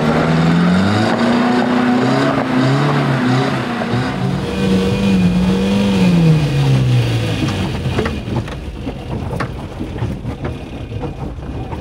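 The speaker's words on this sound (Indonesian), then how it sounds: "Sampai mesinnya menggerung begitu." A 4x4 engine on a steep mountain track at Gunung Suket, Bondowoso, roaring and straining with wavering, rising and falling revs, then settling into a rougher, noisy rumble with wind buffeting the microphone.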